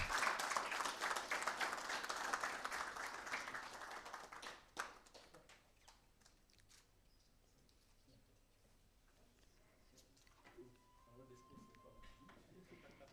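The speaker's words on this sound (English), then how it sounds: "Everyone, please give a huge round of applause." Applause from an audience at a formal event welcoming a guest, loud dense clapping for the first few seconds, then fading to scattered faint claps and room noise.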